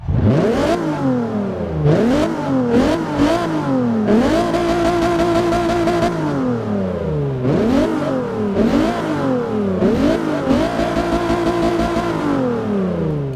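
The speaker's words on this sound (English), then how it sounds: "God, I love that sound of that V6, man." A 1992 Alfa Romeo Milano Quadrifoglio Verde V6 in the racing game Forza 6 revs hard through repeated climbing and falling sweeps, loud and close, with no voices over it.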